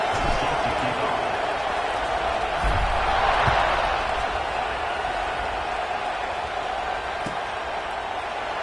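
A stadium crowd at a football game keeps up a steady, dense roar throughout, with a commentator's voice faintly beneath it.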